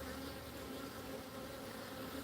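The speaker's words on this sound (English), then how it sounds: "But you see they're starting to fan over here." Honey bees fanning at the entrance of a colony being merged with a stronger one, a steady, dense, even drone of many wings holding close and continuous throughout.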